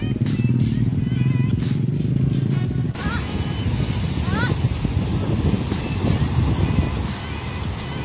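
A motorcycle engine running steadily under heavy wind buffeting on the microphone, loud and continuous, with a voice speaking over it, on a ride to Tanjung Kerasak Beach in South Bangka, Indonesia.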